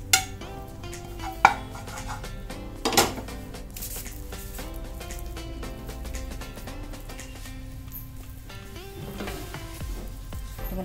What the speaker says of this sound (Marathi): त्याच्यावरती हे मिश्रण आता आपण ओतून घेऊ ताटामध्ये।